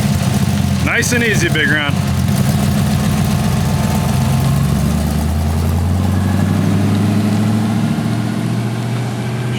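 A 1940 Ford's engine idles and pulls away on its first drive, a steady low rumble running throughout with a brief higher whine early on, under close conversation.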